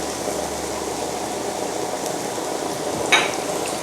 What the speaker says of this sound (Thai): ลงไปเลยกระเทียมกระเทียมผัดให้หอมเลยนะจ๊ะ